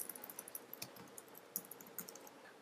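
Fingers type on a computer keyboard in quick, uneven bursts of light clicking keystrokes, close but quiet, with no talking.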